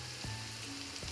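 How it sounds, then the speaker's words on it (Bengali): Potatoes fry in a covered pan, giving a faint, steady sizzle throughout the brief moment, with a couple of soft clicks. "তাহলে আলুগুলো একটু ভালো ভাজা হবে"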